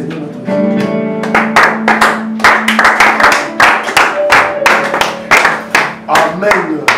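Church congregation clapping and cheering together at an evening service, a dense run of sharp overlapping claps building and pulsing for several seconds, with a sustained tone and voices underneath.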